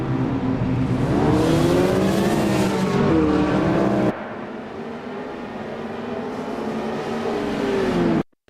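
Engine roar of an LMGT3 sportscar racing at Laguna Seca in a sim racing game, a loud sustained rev that rises and falls as the car passes, then drops off sharply near the end.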